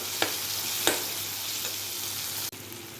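Green chillies and mint leaves sauté in hot oil in a pan for a chicken kurma, a steady close sizzle broken by a few stirring scrapes.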